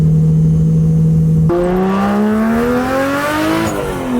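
A Subaru WRX with a suspected failing turbo accelerates hard at full throttle, its engine note climbing steadily through gear changes, loud and close with no talk.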